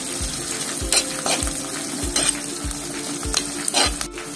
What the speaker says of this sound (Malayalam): പച്ചമുളകും ഇതൊക്കെ നന്നായിട്ടൊന്ന് മൂപ്പിച്ചെടുക്കാം